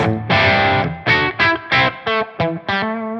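Electric guitar through a crunch amp tone on the blue channel of a TONEX capture, several distorted chords and short stabs with brief gaps, loud and close, played alone without talk.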